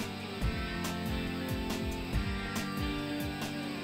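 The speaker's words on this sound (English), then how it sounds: "That sound you hear is cars and trucks going across the bridge." Steady roar of cars and trucks crossing a bridge outdoors, with a rhythmic series of rumbling thumps as wheels pass over joints, a continuous moderately loud wash of traffic noise with no voices.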